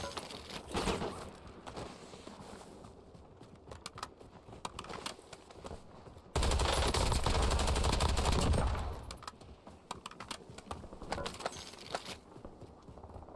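Rapid automatic gunfire in the Warzone video game, bursts of shots with a loud sustained stretch in the middle, quieter sporadic shots around it, no talk.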